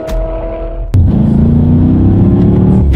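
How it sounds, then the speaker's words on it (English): A 2019 BMW M5 in paddle shift mode opens with a lower engine note, then launches with a sudden loud surge into a strong, steady accelerating roar. "We are going to do a quick little acceleration, and we're going to see how quickly they react for us here in the 2019 M5."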